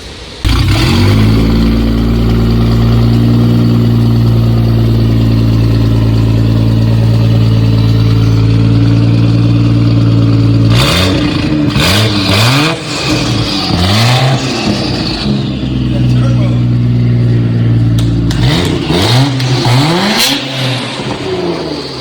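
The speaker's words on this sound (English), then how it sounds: "So Steve's gonna do the honorary cold start on it. You gotta hear this. Tome exhaust." Nissan Skyline GT-R R34 with a Tomei exhaust fires up from cold, holding a loud, steady high idle before a series of sharp throttle blips and revs rising and falling near the car.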